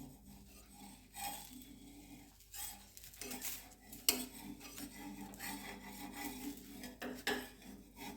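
Metal spatula scraping and rasping against a pan while a dosa is lifted off, quiet close-up scrapes and clinks coming in irregular bursts.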